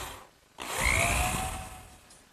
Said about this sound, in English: And now just a couple screws on this end to secure it.